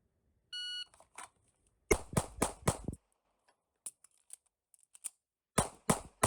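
A shot timer gives a long electronic beep, then pistol shots from a CZ P01 Omega or Glock 19M crack in quick bursts with a pause for a reload, loud and close against near silence.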